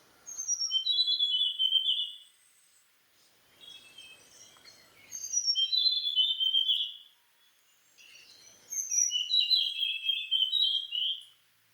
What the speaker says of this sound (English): typically a burst of ascending notes followed by one or two falling notes, then a final rising whistle